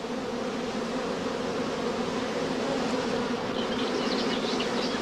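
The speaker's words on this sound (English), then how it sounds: "the bees form a dense covering on the comb" A steady, droning buzz of many honeybees massed close together on a comb, a continuous hum with no voices.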